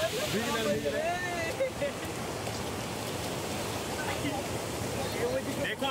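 Sea waves roll in at Digha beach as a continuous, fairly loud surf wash, with faint voices drifting through the broad, steady roar.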